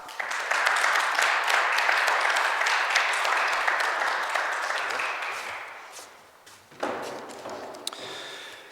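Audience applause welcomes PC Party Leader Rob Lantz at a March 2015 press conference, a dense, steady clapping lasting several seconds that thins and fades, then a brief renewed burst near the end.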